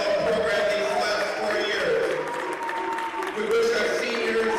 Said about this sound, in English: let's have one big collective round of applause for our seniors and for their families